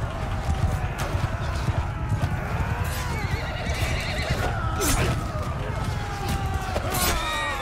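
Horse neighing and galloping hooves in the Mount & Blade 2 Bannerlord video game, with several loud whinnies over dense, steady clip-clop and battle noise, up close.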